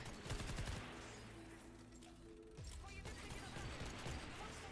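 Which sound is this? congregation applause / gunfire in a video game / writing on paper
gunfire in a video game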